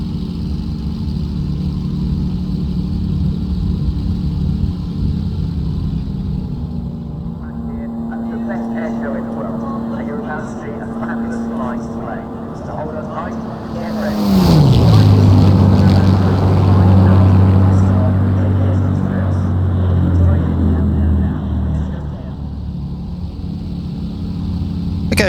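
A Flight Replicas P-40N Warhawk model plane's engine and propeller drone steadily with a sustained tone, its pitch dropping sharply and then growing louder and rougher as the throttle changes, with someone talking over it.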